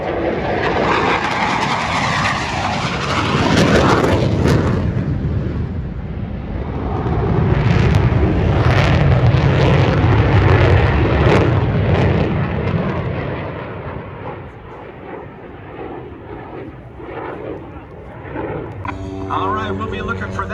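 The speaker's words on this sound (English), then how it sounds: "So the F-16 Fighting Falcon has served not only with our Air Force, but the Air Forces of many partner nations." An F-16 Fighting Falcon fighter jet roars through an air show, a loud sustained engine rumble that swells and fades over the field while an announcer talks over it.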